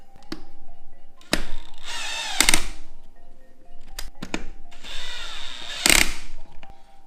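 Cordless power drill driving bolts on a KMC XD229 Machete beadlock ring fitted to a BFGoodrich KM2 37-inch tire, heard as short whirring bursts separated by pauses, with sharp clanks and thunks of the wrench and ring between runs.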